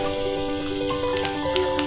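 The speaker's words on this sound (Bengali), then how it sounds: "এবার আমরা এর মধ্যে দিয়ে দেবো পেঁয়াজ কুচি" Chopped onion frying in hot oil after cumin and chilli, a steady close sizzle with faint crackles and pops throughout.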